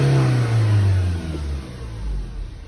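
Car engine revving close by with the RPM rising and dipping unevenly, a loud steady growl that surges and settles over a few seconds with no voices.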